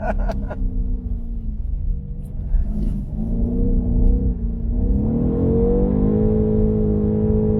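A 530 hp BMW M850i xDrive accelerates hard on a track, heard from inside the car as a deep, loud engine drone that climbs in pitch through the gears before settling into a steady high rev.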